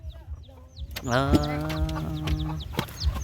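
A chicken clucks close by in a rural Thai household, a run of short clucks and a drawn-out call, with a person speaking partly over it.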